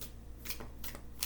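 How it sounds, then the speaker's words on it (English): Tarot cards being shuffled by hand, quick soft riffling bursts repeating in short bursts, close and quiet with no voice. "when I don't get cards and I have to keep shuffling"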